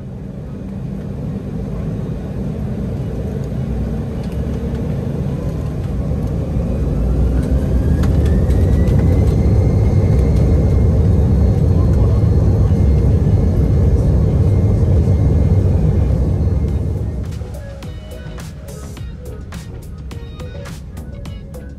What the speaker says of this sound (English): The spool up and takeoff are up next.